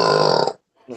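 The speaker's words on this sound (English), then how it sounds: "if anybody ever needs me for a burp sound effect" A single loud, drawn-out burp lasting about half a second, close and alone, followed by a brief low vocal sound.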